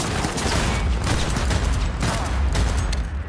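Dense, continuous gunfire in Cyberpunk 2077, a loud overlapping barrage of shots with no gaps throughout.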